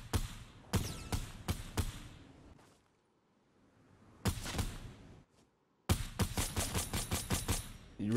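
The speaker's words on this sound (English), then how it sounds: "I heard shots." Gunfire in the video game Fortnite: bursts of sharp shots fire in quick rapid volleys, break for a quiet stretch, then return as a loud rhythmic string of repeated blasts.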